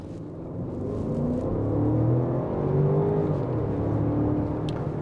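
Land Rover Range Rover SE three-row SUV cruising around town in dynamic mode, a steady low engine drone with gentle rising and falling revs, continuous and close, with no talk.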